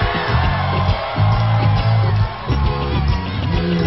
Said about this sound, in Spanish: Pero más fuerte el aplauso,